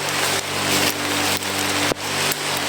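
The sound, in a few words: heavy rain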